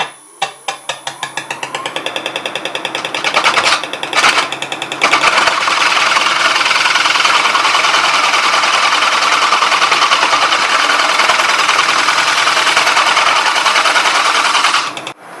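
A ground chisel cuts the recess away from the bottom of a spinning wooden bowl on a lathe, starting as rapid rhythmic tapping chatter and then turning into a loud, sustained close scraping roar.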